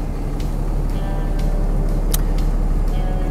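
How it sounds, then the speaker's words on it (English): An AJK SLK12 skip loader's engine runs at a steady idle, a loud continuous low rumble with a few faint clicks over it and no talking. "Turn the vehicle on."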